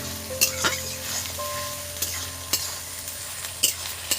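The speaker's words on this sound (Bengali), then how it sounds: "মশলা কষাচ্ছি বন্ধুরা" Spice masala for a mutton and potato curry fried and stirred in hot oil, a steady close sizzle punctuated by sharp clinks and scrapes of a spoon against the pan.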